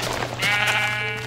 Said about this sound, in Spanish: Vamos a matar a esta oveja.